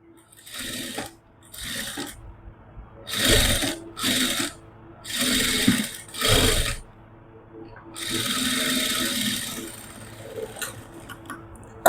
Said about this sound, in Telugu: ఇప్పుడు ఇంకొక కుట్టు అయితే వేస్తున్నాను దీని మీదనే